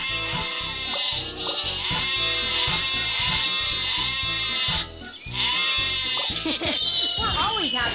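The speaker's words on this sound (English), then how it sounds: "Sheep have wandered onto the tracks." Sheep bleating on race tracks in a video game, several loud wavering bleats stacked over a busy game soundtrack, one after another with a short dip midway and more close bleats near the end.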